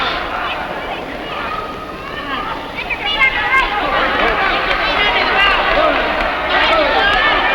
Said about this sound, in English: the crowd yelling to the Baron to break it up